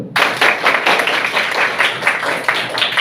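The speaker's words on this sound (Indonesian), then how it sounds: "Oke, sip, tepuk tangan dulu." A classroom of students clapping together, a loud, dense burst of many hands starting abruptly and continuing in uneven rhythmic waves for a few seconds.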